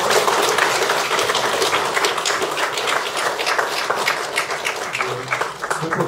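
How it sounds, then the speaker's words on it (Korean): A congregation at a Korean Won Buddhist service claps to welcome the speaker, a continuous crowd of hands, even and moderately loud throughout. "박수로 우리 공사님 모시겠습니다"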